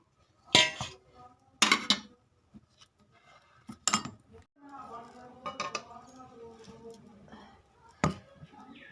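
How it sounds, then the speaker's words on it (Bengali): Boiled lentils are scooped out of an iron wok into a bowl, making several sharp metallic clanks and scrapes of a spoon against metal, with quieter wet shuffling in between. "এবার আমি কড়াই থেকে নামিয়ে নিচ্ছি একটা পাত্রে।"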